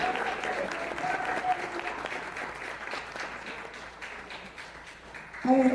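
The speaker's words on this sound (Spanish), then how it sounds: "Denle un aplauso a Cristo." Church congregation applauding together: sustained dense clapping from many hands in a room, fairly loud and even for several seconds, fading slightly before a voice breaks in at the very end.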